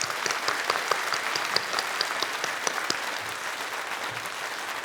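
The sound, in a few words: audience applause for teachers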